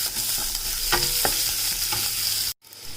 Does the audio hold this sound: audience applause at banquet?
no